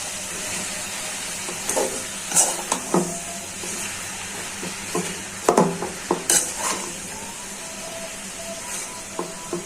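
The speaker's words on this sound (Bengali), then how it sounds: "কাঁচামরিচ কুচিগুলো দিয়ে দিচ্ছি। ভালো করে রান্না করে নিই।" Helencha greens cooking with chopped green chillies in a pan, a soft steady sizzle broken by clinks and scrapes of a utensil stirring against the metal, nearby and without speech.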